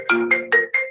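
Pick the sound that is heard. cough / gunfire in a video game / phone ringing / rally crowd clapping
phone ringing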